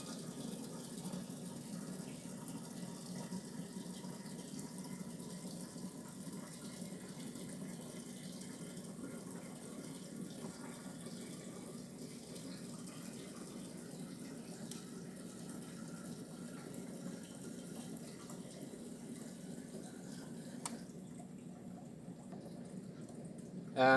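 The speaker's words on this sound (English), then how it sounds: "to run the pump, I just need to press here in the pump, and as you can see now the upper tank is filling" A pump filling an upper water tank in a magnetic flow meter lab setup gives a steady, low hum with continuous rushing water throughout, fairly faint and unchanging.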